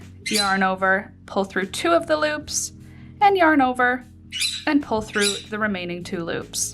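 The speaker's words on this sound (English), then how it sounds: "I apologize for the noise in the background. The birds are feeling frisky today." Pet birds squawk in the background with sharp, high, repeated calls scattered across the stretch, set behind a close voice that speaks steadily throughout.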